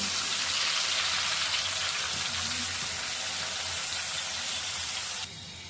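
Dried fish (shutki) frying in a pan, with onions going into the hot oil: a steady, loud broadband sizzle running continuously, dropping slightly near the end.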